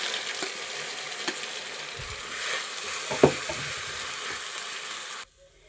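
Paste hisses and sizzles as it goes into a hot pan of melted mixture, a steady frying crackle with a few stirring knocks, then it cuts off abruptly near the end.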